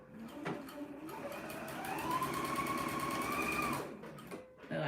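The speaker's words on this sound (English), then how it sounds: "let me sew this stitch" A sewing machine stitches along a side edge in one continuous run of rapid, rhythmic needle chatter that rises in pitch as it speeds up, then stops, with a click before and after.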